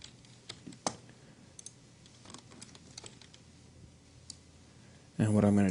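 Soft, scattered mouse clicks sound at a computer during 3D modeling work in 3ds Max, quiet and irregular against a faint room background, ending in a brief louder burst of noise.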